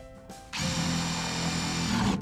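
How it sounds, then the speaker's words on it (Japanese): An impact driver drills a hole through the bottom of a plastic planter, a short close whirring burst that starts abruptly after a brief pause and runs steadily for under two seconds. "このようにプランターの底に穴を開けることができました。"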